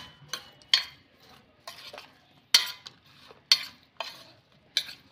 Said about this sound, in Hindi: चाट मसाला, जीरा पाउडर और इन सबको मिला लें।